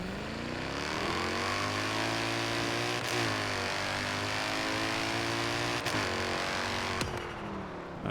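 A 2011 Mercedes-Benz SLS AMG drag car of 900+ horsepower in Forza Horizon 3, its engine revving and droning loudly in steady surges, the pitch dipping and rising with a few abrupt shifts.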